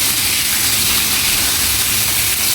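Pangas fish frying in hot oil, a loud, dense, continuous sizzle and spitting hiss filling the whole moment with no pauses and no speech.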